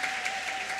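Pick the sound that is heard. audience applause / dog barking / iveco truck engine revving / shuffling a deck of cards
audience applause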